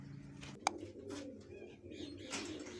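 Pigeons kept in a loft give soft, low coos at close range, with a sharp tap near the start and faint background rustle.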